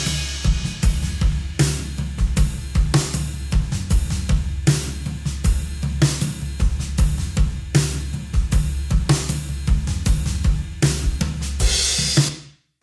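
A drum groove from a song, the bus run through the Channel V plugin, plays loud and upfront with thumping kick, cracking snare and bright cymbal crashes before stopping abruptly near the end.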